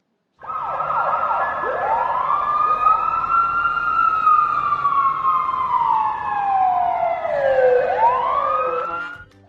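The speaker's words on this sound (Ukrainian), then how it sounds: "Ще в машини є сирена, якою пожежники повідомляють про приближення машини на місце виклику" A loud wailing fire truck siren sweeps up and down continuously for several seconds, close by, with no talking.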